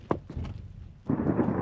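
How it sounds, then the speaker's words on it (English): Thunder rumbles during wintry weather on ski trails near 100 Mile in the BC Cariboo interior: a couple of sharp low thumps, then a broad rolling rumble that swells and holds, fairly close. "That was thunder."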